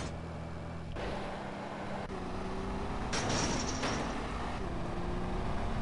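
Vehicle engine droning steadily while driving off-road in GTA San Andreas, with shifting tones and a brief louder burst midway, no talking.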